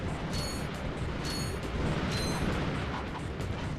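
Rapid, dense blasts from the bomb glove weapon in the Ratchet and Clank video game, a continuous barrage of booming explosions running throughout at steady loudness with no talking.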